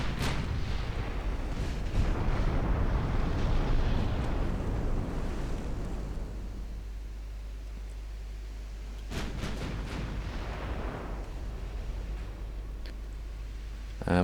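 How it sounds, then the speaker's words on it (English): A warship's ammunition detonates in the naval strategy game Ultimate Admiral Dreadnoughts, a deep, rumbling boom that rolls and fades over several seconds, followed by a second, softer explosive burst with a lingering low roar. "Ammo detonation, more flooding."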